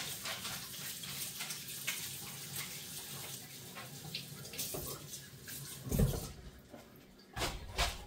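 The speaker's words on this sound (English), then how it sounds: "Rinse my hands off now." Tap water runs steadily while hands are rinsed after packing jalapeño cheddar venison stick mix, a continuous low wash with a brief louder splash near the six-second mark and another near the end.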